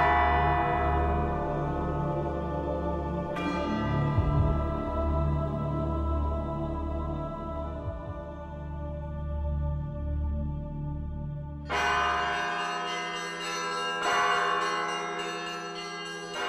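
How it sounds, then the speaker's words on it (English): Church bells ring at Solovetsky Monastery in a steady, resonant peal. Overlapping tolls sustain throughout, and a brighter cluster of strikes enters near the end. "They conduct services and ring new sets of bells."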